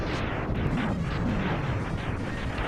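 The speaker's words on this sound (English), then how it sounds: "And then I jump up here, destroy this" An enemy ship blows up in the Mega Man X video game, a loud, dense rumbling blast that roars for about three seconds without pause.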